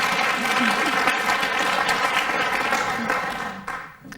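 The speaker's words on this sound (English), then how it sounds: "Applaud, don't be scared, applaud!" A crowd at a women's event show applauds in a steady wash of clapping that holds loud, then thins and fades toward the end.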